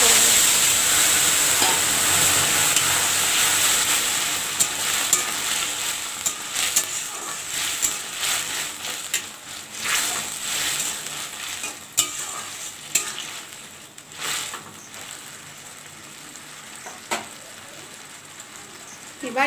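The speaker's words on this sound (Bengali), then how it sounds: "এবার এর মধ্যে সেদ্ধ করে রাখা পুঁইশাকটা অ্যাড করে দিই।" Boiled Malabar spinach is stirred into fish paste in a hot pan, giving a steady sizzle with scraping spatula strokes close by that ease off over time.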